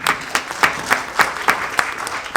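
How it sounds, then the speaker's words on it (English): Scattered, sparse clapping from a small audience at a fundraising gala dinner and qawwali night for a hospital foundation, with distinct individual claps spaced irregularly rather than a dense ovation. "So a round of applause for Dr. Saab."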